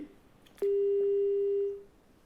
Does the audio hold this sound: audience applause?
no